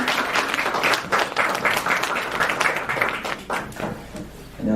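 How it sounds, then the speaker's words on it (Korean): A church congregation applauds to welcome a pastor at a founding service, dense sustained clapping throughout with a few brief voices mixed in. "우리 이경민 목사님 박수로 함께 환영하시도록 하겠습니다."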